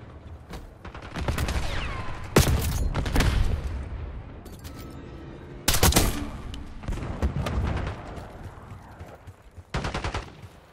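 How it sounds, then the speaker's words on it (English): Rapid gunfire bursts from an enemy sniper and other weapons in a Call of Duty: Black Ops 6 multiplayer match, loud and close, with repeated volleys and sharp cracks spread across the scene. "Enemy sniper shooting."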